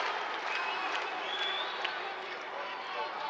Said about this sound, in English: Crowd getting into it now. Some of them up on their feet, cheering and chanting.